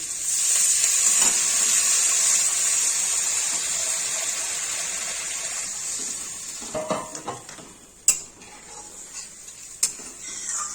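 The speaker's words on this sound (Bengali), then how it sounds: "এবার জল দিয়ে দিচ্ছি।" Water hits a hot pan of potato curry with a loud, steady sizzling hiss that fades gradually, then a few clinks and scrapes of stirring break through near the end.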